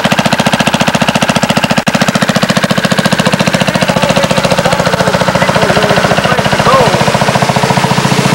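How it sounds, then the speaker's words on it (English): A steady, rapid mechanical chugging from a running pump, loud and close, continuing without a break under faint outdoor noise. "Hear the pump."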